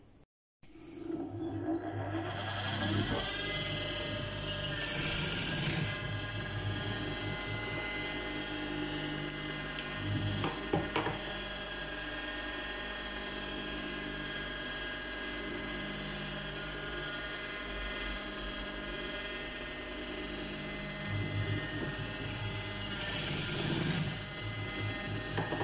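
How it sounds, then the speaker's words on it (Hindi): Sewing machine stitching box pleats on a designer frock koti, running steadily and continuously close up with a fairly loud mechanical hum and rapid needle rhythm throughout. "अब हम मशीन पे इसी जो है ना बॉक्स प्लेट की सिलाई लगाएंगे।"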